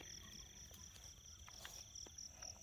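Field crickets in a rural paddy area at night trill steadily in a high continuous chirring, with faint frog-like croaks and clicks scattered underneath, fairly quiet and unbroken throughout.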